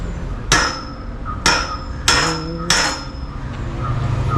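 Hammer blows striking an old car battery casing, four sharp separate impacts at uneven intervals, close and loud, with no talk.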